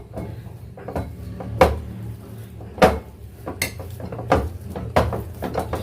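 Well-boiled potatoes being mashed by hand in a vessel for a children's evening snack, with a series of irregular soft thuds and knocks against the pot that recur every second or so, close and moderately loud.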